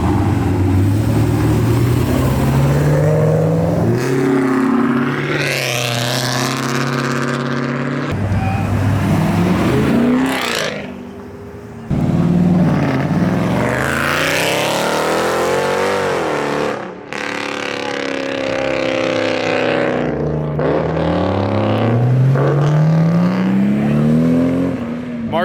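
A Mark III Toyota Supra and muscle cars accelerate hard past the listener, engines roaring and rising in pitch in several loud passes.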